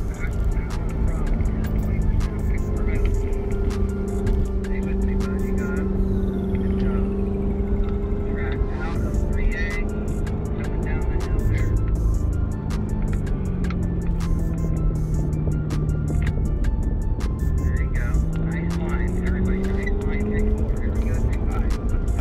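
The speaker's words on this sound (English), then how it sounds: "I also don't have a clue how this little Toyota Corolla can accelerate so fast" A small Toyota Corolla on a wet race track during a track day at Sears Point Sonoma Raceway, its engine droning and rising in pitch through gears with a constant hiss of rain and road spray, loud and continuous throughout.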